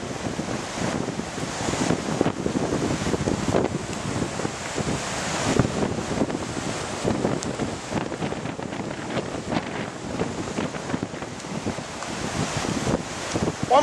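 Hurricane Fay's strong wind buffets the microphone in a continuous loud roar, with heavy ocean waves crashing on the shore beneath it at close range and no talking.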